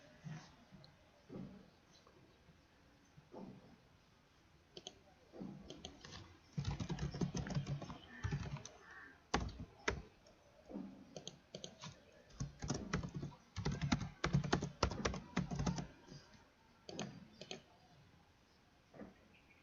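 Someone types at a computer keyboard in irregular bursts of clicks to sign in. The clicks start sparse and quiet, then come in denser, louder runs with short pauses between them.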